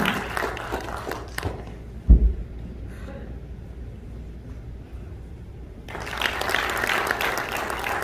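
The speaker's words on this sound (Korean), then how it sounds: "큰 박수로 환영해 주시기 바랍니다." An audience at a Korean election campaign event applauds to welcome a speaker. The clapping is steady at the start, drops to a quiet lull with one low thump, then swells back to full, sustained applause near the end.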